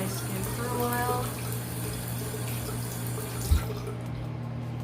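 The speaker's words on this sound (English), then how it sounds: "Don't leave your water running." Tap water runs steadily into a sink during a skincare routine, a continuous hiss that holds at an even level throughout, with a brief thump near the end.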